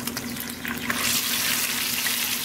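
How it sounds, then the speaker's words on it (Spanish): Seasonings sautéing in the leftover meat juices of a frying pan after meatballs were seared, giving a steady close sizzle with scraping stir sounds that grows louder partway through. "Donde sellamos las albóndigas, vamos a sofreír los aliños porque aquí quedaron los jugos de la carne."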